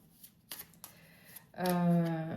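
Oracle cards are shuffled for a card reading: a few soft riffling bursts at first, then a louder, sustained tonal passage near the end.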